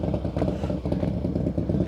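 A motorcycle engine idles and putters with a steady chugging rhythm during advanced slow-speed riding practice at night, close by and continuous without voices.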